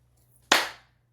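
A single hand clap rings out sharply and close in a quiet room, followed by a short fading echo.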